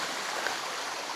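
Water pours over the Sticky Waterfall in Chiang Mai, Thailand, making a brief, even rushing hiss at moderate volume, with no speech.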